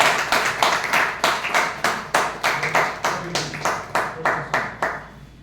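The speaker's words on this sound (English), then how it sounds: "With a big round of applause, let us call upon speaker number 2." A small audience at a speaking event claps together in a steady, rhythmic round of applause, close and fairly loud, the claps evenly spaced and slowing slightly toward the end.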